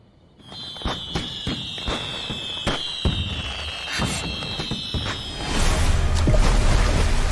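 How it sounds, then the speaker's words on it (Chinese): Fireworks burst in a series of sharp cracks and pops over a whistling, squealing rise, then build into a louder, dense crackling barrage toward the end. "这烟花声和雷声好像啊"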